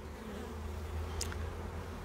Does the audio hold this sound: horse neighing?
no